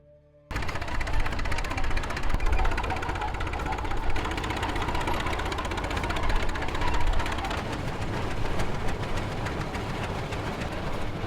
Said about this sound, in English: This is our 1911 Reeves 40 tractor.